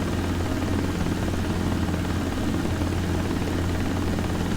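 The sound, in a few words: helicopter flying in a desktop helicopter flight simulator video game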